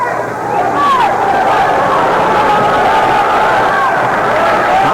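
A boxing crowd at the 1990 Goodwill Games roars and cheers in a large arena, a steady wash of distant voices with a commentator talking over it.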